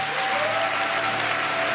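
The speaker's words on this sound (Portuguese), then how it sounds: "dê um aplauso ao Senhor" A church congregation applauds during worship, a dense, continuous wash of many hands clapping together with a faint sustained tone underneath.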